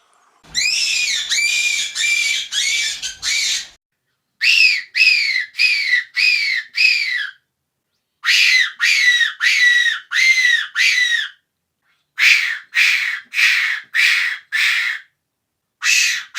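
A Tenterfield-type fox whistle blown in short bursts to mimic the high-pitched scream of a caught rabbit: four groups of rapid, piercing wavering squeals separated by silences, close and loud.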